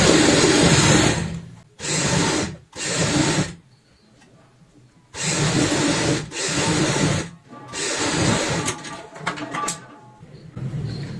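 Sewing machine stitching round denim pieces cut from old jeans for a travel bag, several loud bursts of rapid whirring stitching separated by short pauses.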